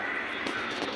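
A single harsh crow caw rings out nearby, loud and raspy.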